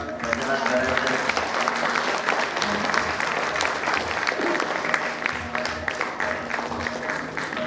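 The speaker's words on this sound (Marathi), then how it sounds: "विद्यार्थी मित्रांनी जरा टाळ्यांचा गजरात करायचा" Students clap continuously at a get-together as a portrait is garlanded, a steady wash of applause with murmuring voices beneath it throughout.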